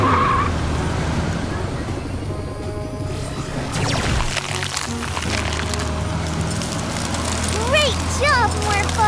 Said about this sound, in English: Now, morph into a monster ice truck!